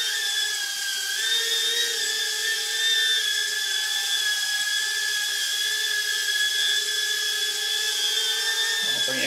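A FrSky MQ60 quadcopter flies with upgraded 1700 kV motors, giving a continuous high-pitched buzzing whine with shifting tones as the throttle changes, steady and fairly close throughout.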